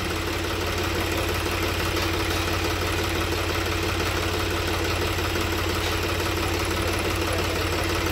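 A tractor engine idling while stopped, a steady close low rumble with constant vibration and no talking.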